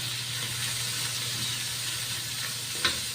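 Ground pork frying in a pan gives off a steady, close sizzle with a constant hiss, joined by a brief clink of a utensil near the end.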